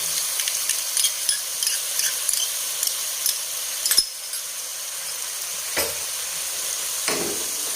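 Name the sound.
spoon stirring egg gravy with yogurt in cooking pan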